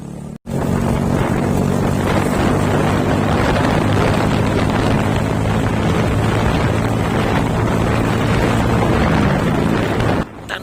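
A car follows a Scania K410i NewJetline public transport bus on the road, with loud continuous engine and road roar buffeted by heavy wind noise for about ten seconds, and no talking.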